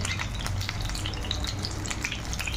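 Pumpkin-flower potato chops, puffed with baking soda, sizzle steadily in hot oil, a close, even crackle with scattered pops throughout.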